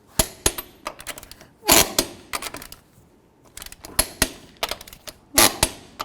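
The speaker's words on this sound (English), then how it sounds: "Let's torque these lug nuts to 140 foot-pounds." Torque wrench tightening lug nuts to 140 foot-pounds on a 1999-2007 Chevy Silverado, a series of sharp, close metallic clicks and clunks in irregular bursts with brief quiet gaps between.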